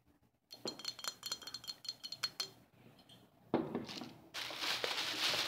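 Glass liquor bottles clink and knock together as they are handled, a run of sharp close taps and rattles followed by louder glassy clatter and rustling, with no talking.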